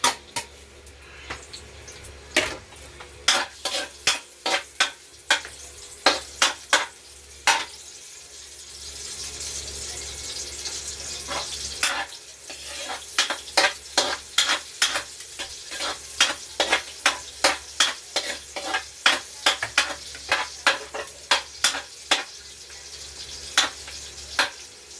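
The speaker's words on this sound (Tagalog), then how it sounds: "Igigasan natin yung garlic." Garlic sautés in a pan with a steady low sizzle, punctuated by many sharp metal spatula scrapes and clinks coming in bursts, close and fairly loud, with no talking.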